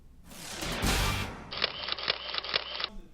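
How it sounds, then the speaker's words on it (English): Camera shutters clicking repeatedly at a student photography night, a steady run of sharp mechanical clicks following a louder burst of rustling activity. "That's the sound of the hundreds of pictures that were taken at Photo Fun Night"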